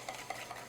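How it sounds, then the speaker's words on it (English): Coconut bread batter is whisked in a bowl, giving a brief burst of quick rhythmic scraping and tapping strokes. "Whisk that in."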